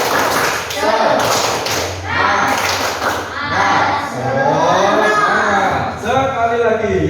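Indonesian classroom group doing tepuk semangat, a rhythmic spirit clap, with bursts of patterned clapping mixed with children's chanting voices and teacher speech throughout.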